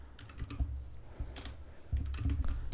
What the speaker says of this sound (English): let me just type in any number